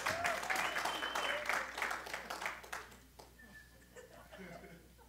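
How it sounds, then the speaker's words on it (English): A church congregation breaks into clapping that fills the room for about three seconds, then thins and fades, with faint chuckles and murmuring voices beneath it. "they're going to start clapping"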